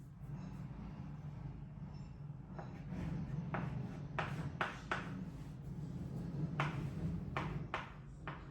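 Pen or marker strokes writing out maths sums for simple-interest problems, a run of short scratchy strokes coming in bursts over a steady low background hum.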